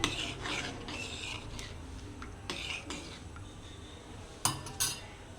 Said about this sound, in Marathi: परत एकदा हलवून घेणार आहे